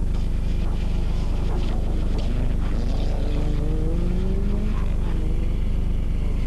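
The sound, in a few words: rally cars racing at 1987 24 Hours of Ypres rally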